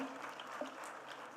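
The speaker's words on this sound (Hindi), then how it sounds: "अशोक कुमावत जी के लिए इसके लिए जोरदार तालियां बजाकर उनका एक बार अभिनंदन करें।" Brief, faint applause ripples through an audience at the Arya Mahasammelan convention in Jaipur, Rajasthan, a soft wash of clapping heard from some distance.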